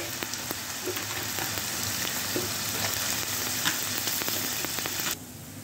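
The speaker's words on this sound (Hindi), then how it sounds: "मीडियम फ्लेम पर हम अरबी को जो है फ्राई करते हैं 8 से 10 मिनट के लिए" Taro (arbi) fries in oil over a medium flame with a dense, steady sizzle and scattered pops, loud and close, until it cuts off near the end.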